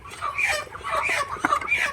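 A crowd of chickens being sold, about 120 birds, clucks and squawks continuously, a dense, busy flock noise with overlapping calls and no break.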